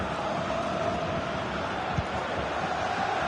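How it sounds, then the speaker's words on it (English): A stadium crowd in a football video game keeps up a dense, steady roar of massed voices that fills the whole stretch at an even level without any break. "The crowd certainly think so. Just listen to them."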